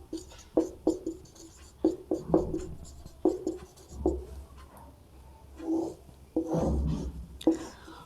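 A pen scratches out a maths formula on paper in short, repeated strokes and taps, close and fairly quiet, with faint soft voice sounds in the background.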